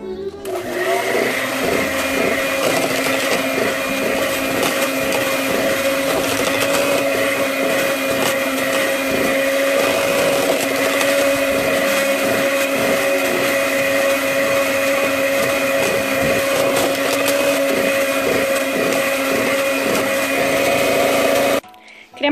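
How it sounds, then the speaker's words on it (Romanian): Electric hand mixer beating cream with cold yogurt from the fridge for a peach Melba dessert, a steady loud continuous whir running throughout with no break until it cuts off at the very end. "acum vom adăuga iaurtul rece de la frigider și vom continua să mixăm pentru încă 3"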